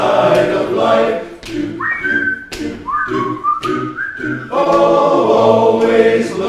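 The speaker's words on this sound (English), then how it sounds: "Just purse your lips and whistle, that's the thing." A church congregation at a spring sing-along whistles a bright tune together, the pitched whistle line gliding between notes over piano and group singing, loud and close in a lively room.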